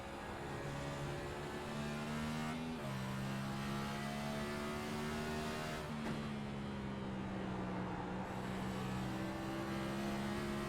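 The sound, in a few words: race car engine throttle at Road America, racing video game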